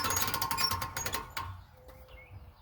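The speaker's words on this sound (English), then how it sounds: "And you put that on here, and we continue to crank it." A boat trailer winch is cranked to tighten a strap, giving a quick run of rapid ratcheting clicks that stops partway, followed by quieter handling noise.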